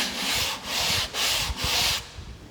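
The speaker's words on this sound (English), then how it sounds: "I'm going to go up and sand a little bit right here." Hand-sanding a drywall patch, four rhythmic back-and-forth scratchy rubbing strokes close up, each a steady hiss with brief pauses between, no talking.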